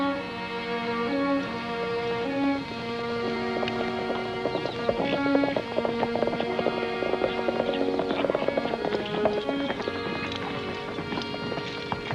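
Horse hooves clip-clop steadily at a walking pace in a 1953 western, heard under a continuous orchestral music score with no talking.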